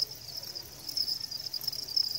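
Steady high-pitched trilling of a mole cricket, chirping on without pause, moderately loud against a faint low background hum.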